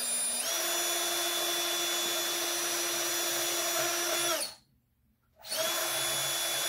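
Power drill boring into a sprocket for a Rockston Sideloader pachinko ball lifter kit, a loud, steady high whine that cuts out briefly and then starts up again.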